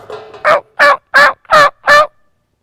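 A wild turkey hen calls outdoors in spring, five loud, close yelps in an even, evenly spaced run with quiet between them.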